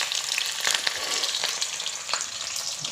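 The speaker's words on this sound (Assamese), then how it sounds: "মই অলপ পিঁয়াজ দিছোঁ" Onions sizzle in oil in a pan, the start of a home-cooked duck meat dish, a close, steady hiss of frying broken by occasional stirring scrapes and crackles, with no one speaking.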